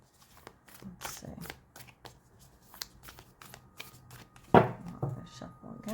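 Oracle cards being shuffled by hand produce a run of quick papery riffles and soft slaps, moderately close, with a sharper burst of card noise near the end and a faint voice in the background.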